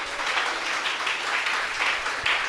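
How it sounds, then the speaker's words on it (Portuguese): A church congregation claps together in worship, steady dense applause filling the room with rhythmic swells, loud and close, with no voices over it. "Aplauda o Senhor, igreja."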